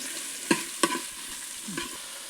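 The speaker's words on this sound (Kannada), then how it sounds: "4 ದೊಡ್ಡ ನೀರುಳ್ಳಿ ಕಟ್ ಮಾಡಿ ಇಟ್ಕೊಂಡು ಹಾಕ್ತೆ" Four large chopped onions with garlic and a green chilli go into hot oil for a fish curry, sizzling steadily with two sharp stirring knocks early and one more near the end, no talking.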